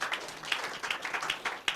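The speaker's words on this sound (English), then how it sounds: "Make we clap for Mr. Brown for giving us extra time." Applause at a Nigerian radio programme's call-in session, a short, brisk burst of scattered hand claps from a small group, fairly close and uneven in rhythm.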